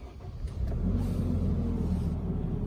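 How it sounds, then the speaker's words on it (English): A 2018 Nissan Navara pickup's engine, started with keyless start, turns over and settles into a steady, loud, close rumble that holds evenly. "I'll start the engine, I'll show you a few features."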